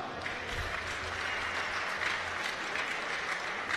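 Steady, dense applause from a large boxing-event audience in Munich, continuous and fairly close, with no voices over it.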